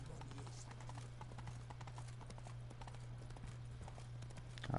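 Hooves of Roach, a horse in The Witcher 3, clip-clop in a quick, even rhythm, fairly quiet under a constant low hum in the game mix.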